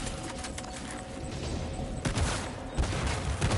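Gunfire from a Warrior assault rifle in the video game Death Stranding 2 crackles in dense, rapid bursts that swell into heavier volleys toward the end, loud and close over a busy in-game background.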